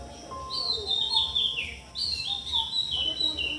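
Birds give high, sweet chirping calls, repeated phrases that rise and fall in a few bursts over a faint background hum, with no one talking.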